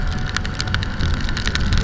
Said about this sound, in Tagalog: lumalakas na naman yung ulan